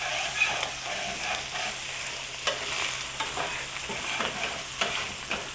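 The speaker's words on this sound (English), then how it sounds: "all of that caramelized surface that I'm scraping and about to build more, some of it's on the meat and some of it's on the vegetables right now" Steady sizzling and scraping of caramelized meat and vegetables in a frying pan for a cottage pie, a continuous close fry with a few sharper scrape accents and no talking.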